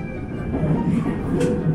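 A train carries passengers on a winter ride toward Namba in Japan, giving a steady close rumble of wheels and carriage noise with no talk over it.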